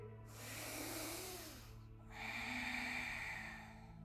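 A deep inhale taken during a beginner yoga exercise, drawn in as a long, soft, airy rush through the nose, then after a brief pause a second breath that is slightly brighter and hissier, close and steady, with no talking.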